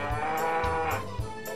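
A cow in the Nintendo 64 farming game Harvest Moon 64 gives a short, tonal electronic moo. It is close and clear, with a few regular bright ticks layered over it.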